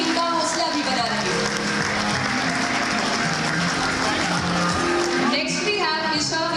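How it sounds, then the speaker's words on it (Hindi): A crowd at a school's annual function applauds a student with thick, continuous clapping that stays loud throughout, while a voice carries over it. "आप सबकी तालियों की गड़गड़ाहट रुकनी नहीं चाहिए ताकि इनका हौसला भी बना रहे"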